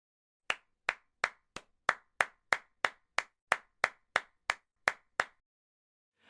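About fourteen sharp, evenly spaced hand claps ring out close by in a quiet room during a team sprint retrospective, with no voices.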